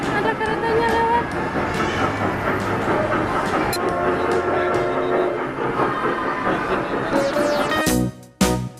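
A small kiddie ride train rolls past inside a busy shopping mall, its steady rumble and clatter running under a loud children's song and chattering voices, with a brief squeal near the end.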